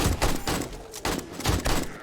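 Shotgun fire in the video game 7 Days to Die, several rapid booming blasts in quick succession within a couple of seconds, loud and close, with no speech over them.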